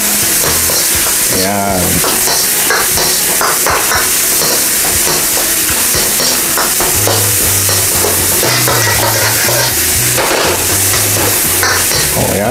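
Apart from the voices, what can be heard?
stir-frying shrimp and noodles in a pan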